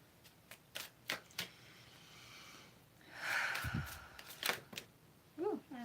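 A tarot card is drawn from the deck with a soft riffle and slide of cards, preceded by a few light taps and clicks, all quiet and close with no talking.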